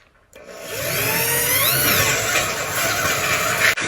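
A 1.25-inch step drill bit bores a hole for a DIY smokeless firepit, the power drill whining steadily and loudly up close for a few seconds before stopping abruptly.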